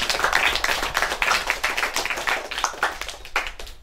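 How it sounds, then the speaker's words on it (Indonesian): A school class claps together after a basketball lesson in PE, a quick, fairly close run of individual hand claps that keeps a loose steady rhythm the whole time. "tepuk tangan buat kita semuanya"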